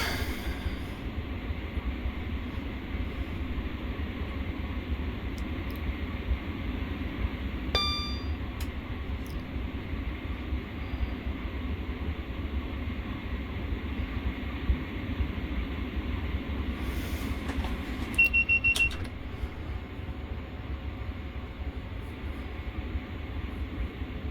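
A Class 166 commuter diesel train running in Train Sim World, a steady continuous rumble and rail noise throughout with a couple of brief faint clicks and tones.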